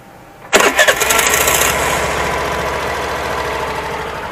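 A loud, short electric self-starter whir cranks a Suzuki Access 125 BS6 scooter with an overly noisy starter, and the engine catches at once and settles into a steady nearby idle.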